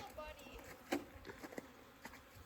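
Honeybees in a northern Minnesota bee yard buzz faintly around a hive, with brief louder passes as individual bees fly close over a quiet outdoor background.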